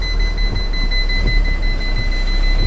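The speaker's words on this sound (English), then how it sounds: "You know you're in tight space when your parking sensors are beeping." Steady, continuous electronic beeping tone rings out loudly and close, over a low rumbling background.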